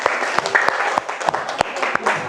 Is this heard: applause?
yes